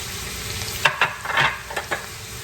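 Cumin, turmeric and ground coriander sizzle in a hot pan for chicken tikka masala, a steady hiss broken by a few sharp stirring scrapes, close and moderately loud with no talking.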